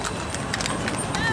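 Horse carriage hooves clip-clop on a street outside Luxor Temple in Egypt, a steady rhythmic trotting at moderate distance beneath someone talking.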